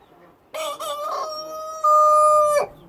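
A rooster crows loudly and close by, one long cock-a-doodle-doo with a stuttering start and a sustained, ringing final note.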